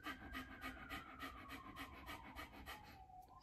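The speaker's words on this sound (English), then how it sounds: "This is that rapid in, rapid out, equal inhale, equal exhale." Rapid fire breathing through the diaphragm, quick equal inhales and exhales in a steady panting rhythm, close and clear with no talking.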